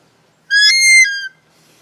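A compact wildlife whistle from an emergency survival kit gives one loud, shrill blast lasting under a second, with a brief warble partway through, heard up close and alone.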